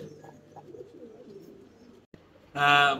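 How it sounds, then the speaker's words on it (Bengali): Black lace shirting fancy pigeons at a farm in Hatinda, Natore, give low, soft coos for most of the moment, then a brief pause is followed by a loud, sudden tonal burst close at hand at the very end. "ভাই এখানে তো একজোড়া ব্ল্যাক লেস শার্টিং দেখতে পাচ্ছি"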